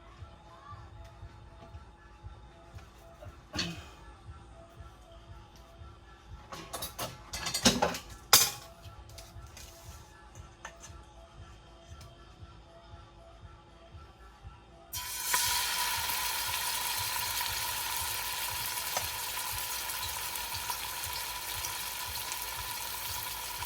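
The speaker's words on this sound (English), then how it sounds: "And now we're going to get our meat in there, not the vegetables, but just the meat." Goat meat lands in hot canola oil in a pan over a medium-low flame, with a few clatters from a utensil. A loud, steady sizzle then starts and holds without a break.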